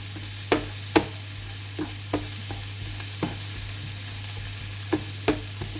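Onions frying toward golden brown in a pan give a low, steady sizzle, with sharp utensil taps and scrapes spaced out every second or so.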